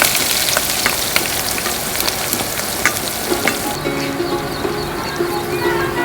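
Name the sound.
stirring onion seeds, garlic and green chili frying in pan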